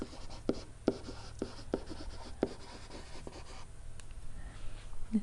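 A marker or chalk scratches math notes onto a board in a classroom, with a series of short, distinct strokes and taps in quick irregular rhythm, close and clear over quiet room tone.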